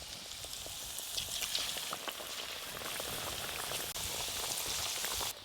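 Batter for banana-flower chops and potato fritters crackles and sizzles steadily in hot oil, a dense popping hiss close by with no talking.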